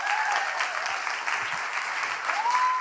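Sustained applause from a morning church-style audience welcoming guest speakers to the stage, dense and steady clapping throughout, fairly close and full, with no talk over it.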